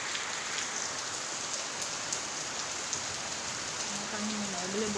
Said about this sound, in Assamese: বৰষুণ দিছে। বেছি নহয়, অলপমান দিছে